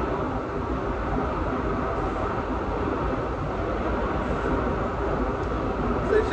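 Loud, steady industrial din of foundry machinery running continuously, a dense rumbling roar with no pauses, filling the whole space.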